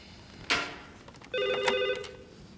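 A telephone rings in an office scene from a 1993 Korean television drama, a short bell-like trill followed by a sustained electronic ring with a clear repeating tone, fairly loud and close with no talk over it.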